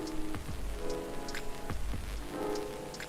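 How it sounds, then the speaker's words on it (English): Steady rain falls throughout a rainy night scene in the video game Coffee Talk, a continuous close patter with a few heavier drips and low rumbling thuds mixed in. "Every night is a rainy night."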